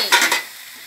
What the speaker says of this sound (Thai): น้ำซุปแช่เห็ดหอมค่ะใส่ลงไปเลย